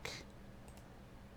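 A single faint computer mouse click at the very start, followed by quiet room tone with no talking.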